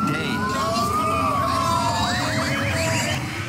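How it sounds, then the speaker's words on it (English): A police siren wails, then shifts to rapid yelping sweeps, loud and continuous over traffic rumble. "Technically, the sirens were actually correct"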